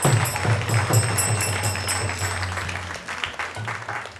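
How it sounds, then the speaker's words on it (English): Audience at an ISKCON temple's Rama Navami evening celebration in Silicon Valley claps in a dense burst of applause that starts strong and gradually thins and fades over a few seconds. "So let's give a big round of applause to everyone."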